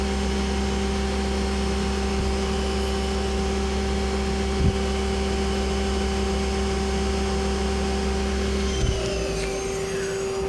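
A Mazak Quick Turn Smart 200 lathe spindle spins at 4,000 RPM as a steady, loud machine whine with constant tonal hums, broken only by a couple of brief clicks and a slight shift near the end.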